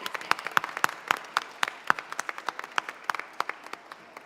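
Sparse applause at a film festival press conference for award nominees, a small group clapping in distinct, separate claps with irregular rhythm, fairly quiet and close, no talking over it.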